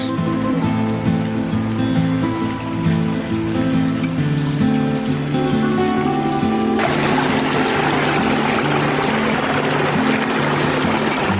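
Water spills over a waterfall into a backyard aquascape ecosystem pond with underwater lights, a steady rushing wash with a low droning hum underneath. The rush swells louder about two-thirds of the way through.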